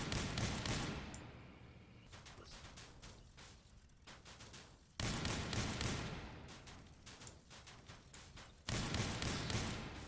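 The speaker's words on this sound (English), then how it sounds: "Let's fire on the wall and in the air." Hammerfall weapon in the video game Crossout fires repeated loud booming bursts in three long volleys, with a brief pause between each and a dense, sustained roar.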